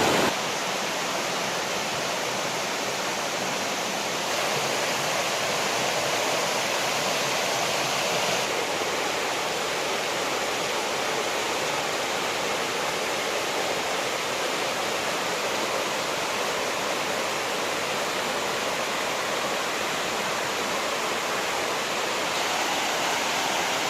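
The Nikhaloy waterfalls in Chechnya roar as a dense, steady rush of falling water, loud and unbroken throughout with no voices.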